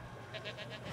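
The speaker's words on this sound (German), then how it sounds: "Wird auch gerade eine Ziege freigelassen." A goat released from a feeder in the video game Jurassic World Evolution gives a quick, quavering bleat, short and faint over a low game ambience.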